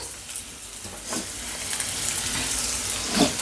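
Green chilies and onions frying on a non-stick tava, a steady close sizzle with soft crackles rising slightly toward the end, no voices.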